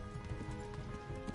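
Horse hooves clip-clopping at a quick, galloping pace in Kingdom Come: Deliverance, a steady close rhythm of hoofbeats over low game ambience.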